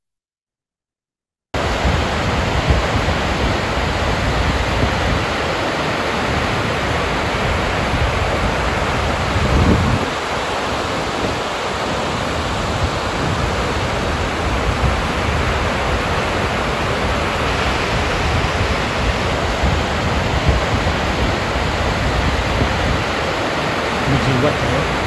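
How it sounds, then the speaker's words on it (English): Heavy water discharging over the concrete spillway of Trevallyn Dam into Cataract Gorge near Launceston, Tasmania, makes a loud, steady broadband roar that runs without pause after a brief silent start. "Discharging over the spillway, going into the Cataract Gorge, and ultimately reaching the Tamar River at Launceston."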